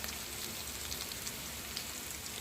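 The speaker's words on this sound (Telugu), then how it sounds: "పచ్చి వాసన పోయేంత వరకు వేయించుకోండి" Ginger, garlic and coriander paste frying with onion in a pan, a steady close sizzle like light rain throughout, with no talk.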